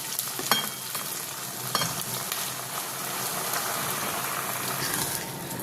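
Corn pulp being mixed into tempered curry leaves in a frying pan: a dense, continuous sizzle with a few spoon scrapes and taps early on, close and steady, no speech.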